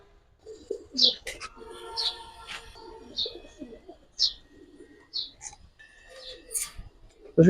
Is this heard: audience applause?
no